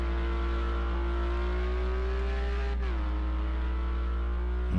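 A steady, droning engine holds a high pitch, then briefly dips and drops lower, suggesting tires losing grip on a virtual racing car.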